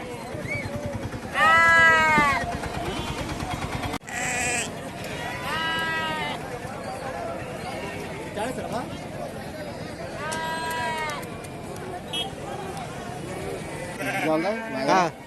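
Several loud sheep bleats ring out close by at intervals at a livestock market in Pebbair, with people talking in the background between the calls.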